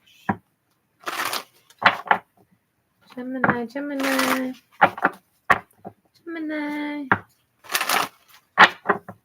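Tarot cards are shuffled in quick riffling bursts, several times, close up, alternating with a voice speaking between them.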